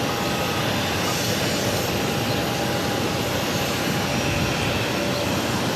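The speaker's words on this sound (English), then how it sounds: "737-800 taking off to San Francisco, Alaska Airlines 357" An Alaska Airlines Boeing 737-800 taking off from Boston Logan's runway 22 left, a loud, dense, unbroken jet roar that holds steady across the whole stretch.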